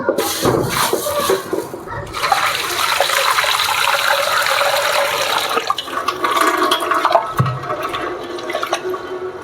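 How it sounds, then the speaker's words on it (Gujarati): Water runs and splashes steadily over lentils and rice in a vessel, a continuous rushing, trickling wash with brief clatters, close and fairly loud throughout. "મસ્ત સરસ પાણી આપણે ધોઈ નાખીશું દાળ અને ચોખા"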